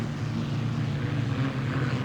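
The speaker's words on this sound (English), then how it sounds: "That's a Chinook helicopter engine, and it is really turning on right now." Pay'n Pak unlimited hydroplane powered by a Chinook helicopter turbine engine racing on water at over 120 mph, a continuous loud droning roar with steady low tones, heard from a distance.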